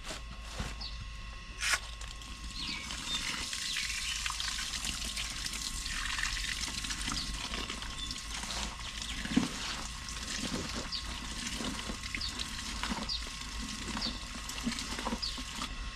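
Water poured onto rice bran being mixed as pig feed, a soft continuous trickling patter with occasional small splashes and wet clicks, steady and close throughout.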